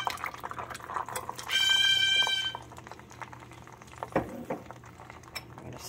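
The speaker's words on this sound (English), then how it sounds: "we're going to put our garlic in there." About three ounces of garlic drop into warm olive oil just taken off the heat, giving a brief loud sizzle that fades to a soft, low crackle.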